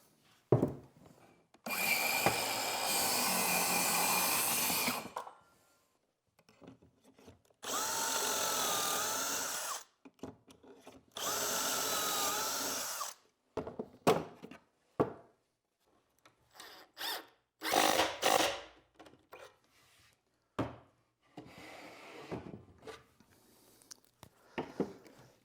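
A circular saw cutting wooden filler strips for a shop cabinet, several loud whining bursts of a few seconds each, separated by quiet pauses and followed by shorter clatters and rubbing handling noises.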